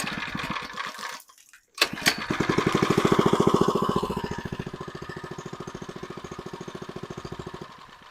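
A Harbor Freight Predator trash pump engine with a poorly running carburetor chugs steadily nearby, stopping briefly before restarting and settling into a loud, rhythmic putter.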